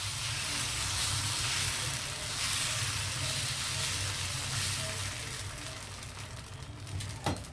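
Onion dosa batter sizzles steadily on a hot pan, a dense, even frying hiss that holds throughout and eases slightly near the end, with a brief clink at the close.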